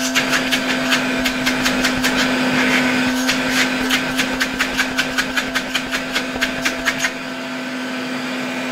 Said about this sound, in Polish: Odkurzacz ładnie dmucha, nie czuć, żeby tutaj gdzieś śmierdziało jakąś spalenizną z tego silnika.